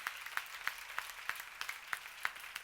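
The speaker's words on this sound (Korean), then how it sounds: "박수 좀 세게 치라고." Rhythmic, unison clapping from a church congregation during a sermon, sharp beats evenly spaced about every third of a second, fairly faint and distant.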